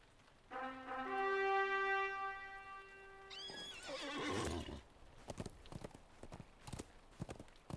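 An animal in the video game Legacy of Morgoth lets out a loud, drawn-out braying whinny lasting about four seconds, followed by a series of sharp hoof-like clip-clop taps.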